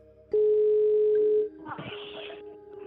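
A telephone call tone over a speakerphone: one steady, loud tone holds for about a second, then cuts off into quieter line noise and a voice speaking.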